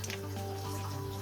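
Rice wine vinegar trickles into a sauce mixture for a chicken lettuce wrap, a brief, soft, close pour with faint dripping over a steady low hum.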